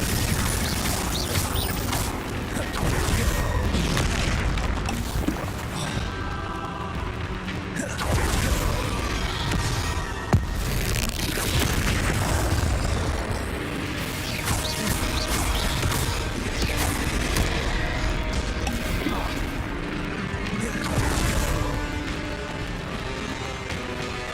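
Repeated explosive Confringo spell blasts crash and boom through dense combat in the Hogwarts Legacy video game, layered with clattering impacts and a steady loud background.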